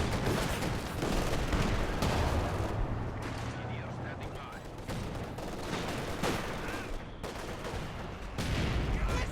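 Allied rocket artillery and mobile artillery pound a Company of Heroes 2 four-versus-four match, a dense roar of continuous booms and gunfire under a commentator's excited voice.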